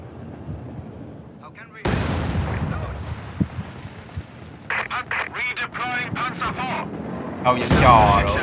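Gunfire and explosive bursts from the World War II strategy game Company of Heroes 2, a loud sustained barrage with sharp cracks and booms under someone talking.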